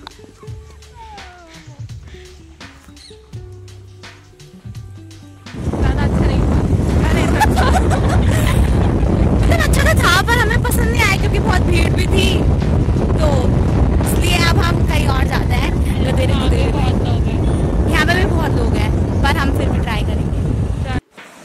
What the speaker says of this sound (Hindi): पानी की आवाज सुनो गाइस, कितनी सुंदर है